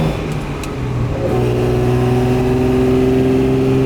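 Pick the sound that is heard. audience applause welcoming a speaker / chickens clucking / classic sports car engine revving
classic sports car engine revving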